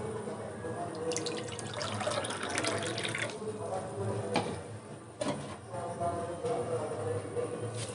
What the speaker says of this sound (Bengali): এই কাপে মাপ করে জল দিয়ে দেবো 1/2 কাপ।